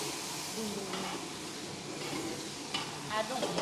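Spinach, ginger and garlic tossed into a hot pan with cumin and dried chillies, giving a steady close sizzle with scraping stir strokes, a few louder clatters near the end.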